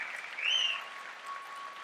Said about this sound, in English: Can we get another round of applause over here for Gary